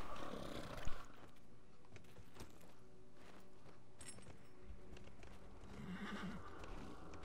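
Horse in a video game, with hoof clip-clop and a neigh or whinny mixed into steady game ambience and background sound, moderately loud throughout.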